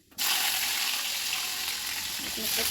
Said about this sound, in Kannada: ಇದಕ್ಕೆ ನಾನು ನಾನೀಗ ಹಸಿಮೆಣಸಿನ್ಕಾಯಿ ಹಾಕ್ತಾಯಿದ್ದೀನಿ